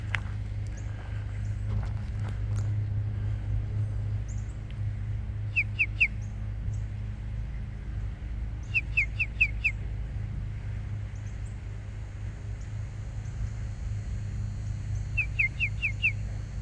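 Small birds chirp in short, quick bursts of three or four high notes at a backyard bird feeder stocked with suet, the calls faint to moderate over a steady low hum, with no talk.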